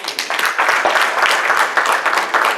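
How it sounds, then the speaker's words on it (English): A conference audience breaks into dense, sustained applause, loud and close, filling the whole stretch with overlapping claps and no talking on top. "let's give her a round of applause"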